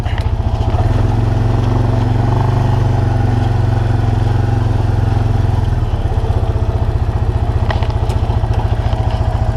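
A tractor-driven slug pellet spreader's turbine spins up under a loud, steady engine drone, a constant rhythmic chugging close by with a clattering mechanical hum and no talk.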